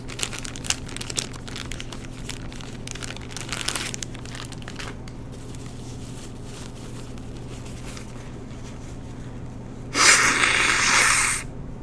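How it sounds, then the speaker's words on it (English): A person gives one loud, forceful nose blow about ten seconds in, a harsh hissing burst lasting under two seconds, after a stretch of quiet room hum and faint rustling. "Excuse me, I must blow my nose."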